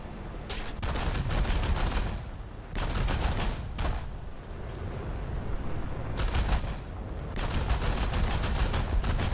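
Gunfire in War Thunder tank combat comes as several loud bursts of rapid automatic shots separated by short gaps, with no talk over it.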